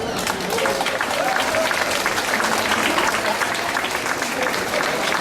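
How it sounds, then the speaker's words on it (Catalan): An audience at an award presentation bursts into sustained, dense applause, the loud continuous clapping of many hands filling the whole stretch without a break. "Rebem-los amb els aplaudiments que es mereixen."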